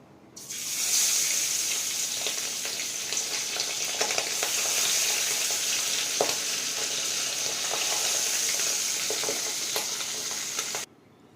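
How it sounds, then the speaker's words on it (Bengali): Pabda fish rubbed with salt and turmeric fries in hot oil, a loud, dense, steady sizzle that begins abruptly and holds for about ten seconds with a few crackles before cutting off. "পাবদা মাছ নুন হলুদ মাখিয়ে 10 মিনিটের জন্য রেখে দিয়েছিলাম, এবার ভেজে নেব।"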